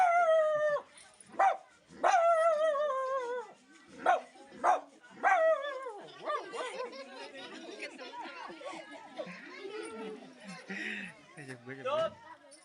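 A man imitates a dog with his voice, giving a run of loud, separate barks and yips, then trailing into quieter chatter and light laughter.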